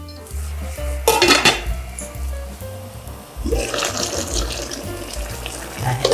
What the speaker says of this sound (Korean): 이게 끓고 있어요.